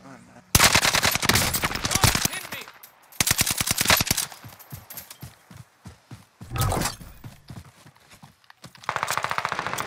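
Gunfire in Call of Duty: Modern Warfare, loud rapid bursts of automatic fire in several separate volleys with short gaps between them, mixed with scattered single shots and brief voices.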